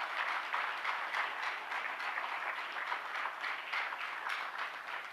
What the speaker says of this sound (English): a big round of applause from the delegates